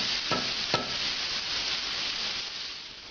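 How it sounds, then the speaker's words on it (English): Chopped vegetables for ossobuco cooking down in a pan over medium-high heat, a loud continuous sizzle with two quick stirring scrapes near the start, no talking. "This is going to cook until the vegetables are very soft."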